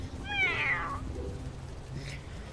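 A cat meows inside the video game Gorilla Tag, giving one clear, rising-then-falling meow near the start followed by a fainter second call, heard alone over a low background hum.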